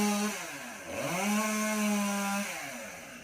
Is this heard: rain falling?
no